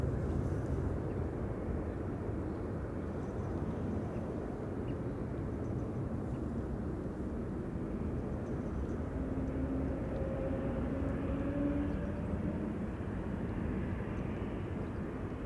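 Embraer E2 airliner taking off from runway 18 left at Amsterdam Schiphol, a steady, fairly distant jet engine rumble holding throughout with a faint rising whine in the middle, no talk.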